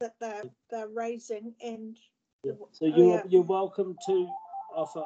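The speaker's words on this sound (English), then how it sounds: "Oh, sorry, that's my phone going." During a community board meeting, a phone starts sounding with a short stepped electronic ringtone melody near the end. People talk over it.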